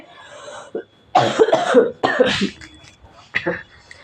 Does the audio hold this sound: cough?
yes